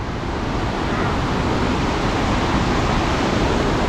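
Water rushes down into a gharat watermill beside a Har Ki Doon trek campsite, a steady loud broadband roar heard up close without breaks.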